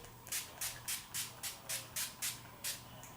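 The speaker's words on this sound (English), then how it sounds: "So we're just gonna spray this all the way up." Nine short, even bursts of NYX dewy finish setting spray misted onto a face, each a soft close hiss with brief gaps between, alone without talk.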